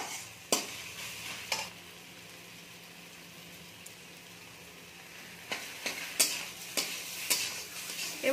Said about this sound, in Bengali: এবার আমরা পেঁপেটাকে একটু ভালো করে ভেজে নেব